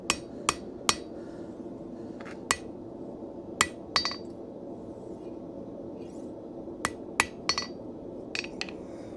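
Sharp, ringing hammer blows land on hot steel being straightened, a dozen or so irregular strikes, some in quick pairs, over a low steady background hum in a workshop, with no talking.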